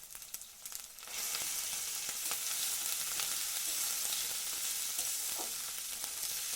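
Chopped onions fry with ginger-garlic paste and turmeric in a hot pan, a steady close sizzle that swells after the first second, with the occasional scrape and clink of a spoon stirring the mixture.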